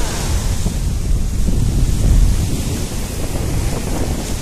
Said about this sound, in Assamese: এয়া বংগোপসাগৰৰ পাৰত আছো